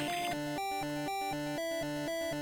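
A Guilty Gear X music track plays in-game, a quiet stretch of layered synth tones stepping through a repeating chord pattern in an even pulse, faint and without speech.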